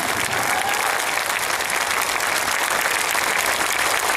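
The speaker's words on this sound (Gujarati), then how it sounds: "હું ના કહું ત્યાં સુધી જોરથી તાળીઓ પડે" Loud, sustained applause from a large crowd at an outdoor political rally speech in Gujarat, a dense continuous wall of clapping throughout with no voice standing out.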